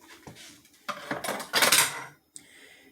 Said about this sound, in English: I'm licking the spoon before I put it in the dish, in the sink